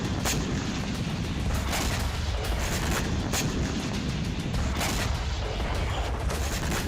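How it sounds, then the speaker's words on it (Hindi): A rapid series of loud missile explosions in Odesa during the Russia-Ukraine war, one boom and blast after another, over a constant roar of noise. "एक के बाद एक कई धमाके हुए।"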